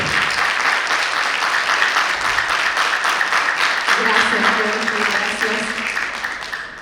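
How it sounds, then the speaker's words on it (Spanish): Dense, sustained audience applause at a book presentation fills the room, steady and fairly loud, with a few voices and cheers rising under it toward the end. "Un aplauso para ella."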